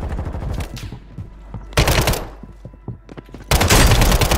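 Rapid automatic gunfire in the Warzone Rebirth solos battle royale game comes in three loud bursts of machine-gun shots, with quieter scattered shots in between.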